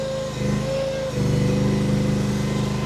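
A Derette DRT450 mini skid steer's small engine revving at full revs, steady and loud up close, with a slight jump in pitch partway through.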